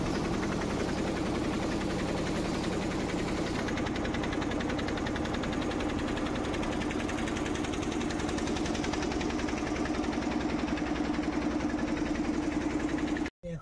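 A boat engine drones steadily as the vessel moves along a river in the Sundarbans, a constant mid-pitched chugging throb that continues unbroken until a sudden cut near the end.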